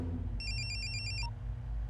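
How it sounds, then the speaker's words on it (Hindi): A mobile phone ringtone chirps in a quick run of bright, evenly pulsed electronic beeps, fairly clear over a low rumbling background. "फोन लगा उसे।"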